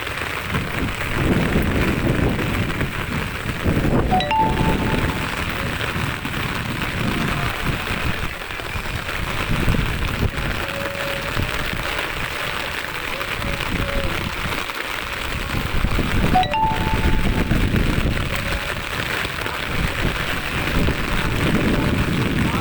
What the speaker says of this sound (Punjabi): ਦੇਖੋ ਕਿੰਨੀ ਬਰਸਾਤ ਹੋ ਰਹੀ ਹੈ ਲਗਾਤਾਰ ਬਰਸਾਤ ਹੋ ਰਹੀ ਹੈ